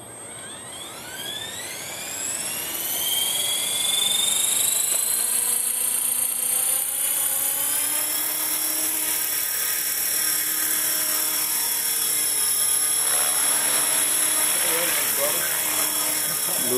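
Hustler 450 clone RC helicopter spooling up for a maiden flight at night, its electric whine rising steeply in pitch over the first few seconds, then holding a loud steady high drone close by.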